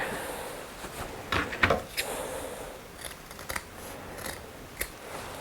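Scissors snip through fabric seam allowance on a pleated kilt-style skirt being sewn, a handful of close, crisp cuts scattered unevenly with pauses between, no talking.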